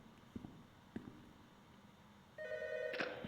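A telephone rings in a Roblox subway game, a bright electronic trill starting late and continuing steadily after a few quiet knocks.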